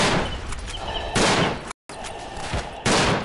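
Gunfire in the World War I shooter game Verdun, with a Gewehr 98 rifle among the weapons: two loud, sharp cracks about two seconds apart, each rising above a busy background of distant battle noise and crackle.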